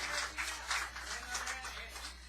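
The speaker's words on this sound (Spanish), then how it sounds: "Un fuerte aplauso, mis amados," A church congregation claps and applauds together, giving a sustained wash of hand claps that swells and dips for a couple of seconds under a low background hum.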